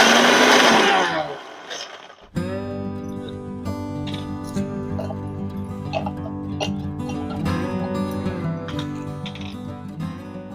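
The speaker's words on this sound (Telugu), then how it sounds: "మిక్సీ కూడా ఎక్కువసేపు ఏం చేయకూడదండి," A mixer grinder blends Ugadi pachadi ingredients in a loud, close burst of whirring that lasts about two seconds and stops abruptly, followed by steady background music.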